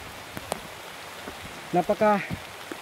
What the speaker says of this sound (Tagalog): Napaka-ulan.